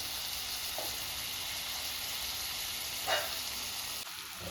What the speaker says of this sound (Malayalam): സവോള ഒന്ന് വാടി വരട്ടെ ഇതുവരെ നമുക്കൊന്ന് മൂടി വയ്ക്കാം